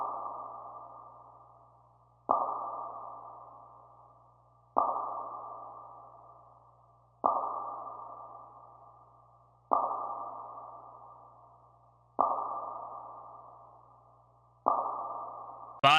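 A melodic music sample with vinyl texture and a percussion hit repeats as a series of soft, evenly spaced pings, each decaying over about two seconds, faint and alone.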